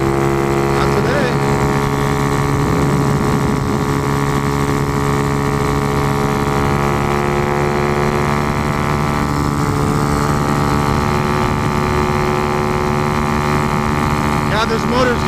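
A boat motor chugs along below full throttle, making a loud, steady, close engine drone with strong tonal hum that runs without a break for the whole stretch.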